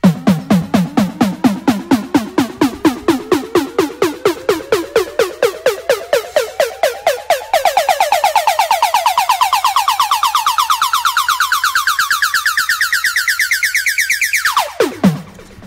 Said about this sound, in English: how to make a really popular style of climbing synth or riser